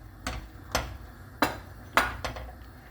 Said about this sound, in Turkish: Karıştırıyorum hiç durmadan